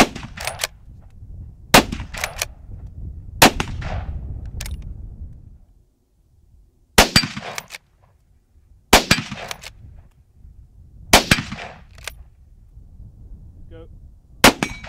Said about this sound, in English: it's not just a case of rattling off three shots as fast as they can